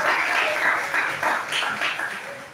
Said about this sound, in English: give applause to our three speakers